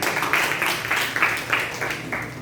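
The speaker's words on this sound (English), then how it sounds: "Let us give a round of applause" Applause from an audience at a talk, with rhythmic clapping in close, regular bursts and a moderately loud level.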